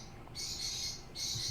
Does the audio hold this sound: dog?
no